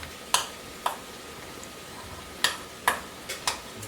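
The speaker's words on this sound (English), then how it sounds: "what I'm going to do is smash a little bit of the avocado" Avocado chunks being smashed in a bowl, heard as about six sharp, separate knocks and squelches spaced irregularly over a few seconds, close and fairly loud with no talking.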